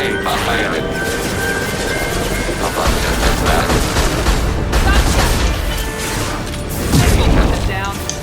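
Heavy, continuous gunfire and booming impacts from the video game Mass Effect 2, loud and dense, with voices talking over the battle noise.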